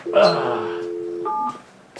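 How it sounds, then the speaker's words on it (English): Two electronic keypad tones, a long steady one followed by a shorter one, close and clear against a quiet background. "Get a dial tone and dial it again."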